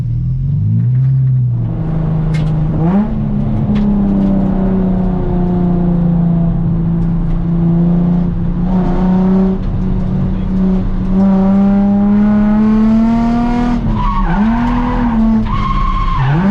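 A car drifts through a handbrake turn on a circuit track, its tires squealing in long, loud, wavering skids over a steady engine rumble, the squeal rising and dipping as it slides, with no talk.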